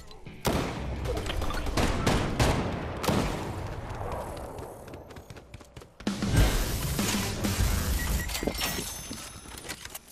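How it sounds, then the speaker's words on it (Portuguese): Bursts of rapid gunfire crackle in a busy Fortnite soundscape, several volleys with short pauses between them, loud and close. "Estão ouvindo gente... tiros aqui"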